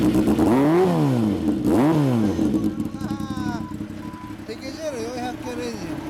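A 1983 Yamaha XJ400Z motorcycle fitted with a Yamamoto Racing exhaust revs sharply twice at close range, then settles to a lumpy idle, with people talking nearby.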